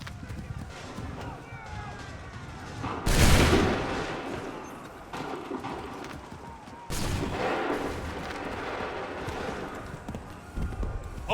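Musket volleys crack out in Assassin's Creed 3, two loud bursts of massed gunfire with smoky rolling tails, set against battlefield ambience, shouted commands and scattered movement.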